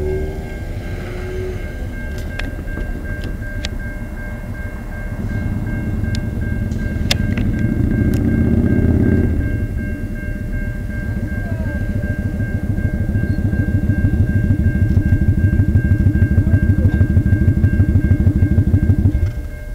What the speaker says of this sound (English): This train snuck up on me.